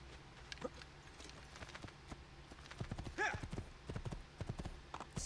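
Horse hooves clip-clop in the video game Assassin's Creed II, a loose string of soft, fairly close hoof knocks over ambient game noise, with a brief neigh-like tonal cry in the middle.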